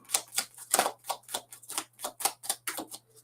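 Tarot cards being shuffled on a table, a rapid series of about a dozen crisp papery riffles and slaps in an even rhythm, close and moderately loud, with no talking.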